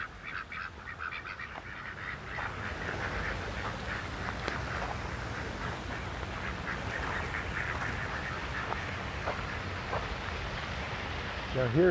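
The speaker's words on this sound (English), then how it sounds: "Got quite a few ducks." Ducks quack repeatedly in a busy outdoor setting on a university campus in New Mexico, a steady chorus of calls with a voice talking partway through.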